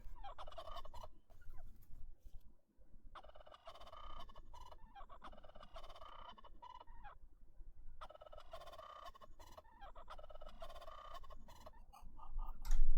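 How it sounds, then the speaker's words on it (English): Electronic beat built from sampled turkey gobbles, with chopped gobbling calls repeating in a steady rhythm over continuous low bass, loud throughout and rising at the very end, no talk. "it's created from turkey sounds"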